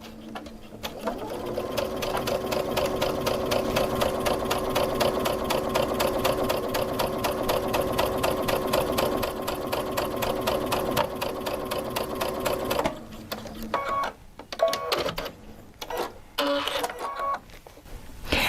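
A sewing machine stitches a quarter-inch seam on a T-shirt quilt, running in a fast, steady mechanical rhythm for about thirteen seconds before stopping, followed by a few short bursts and clicks.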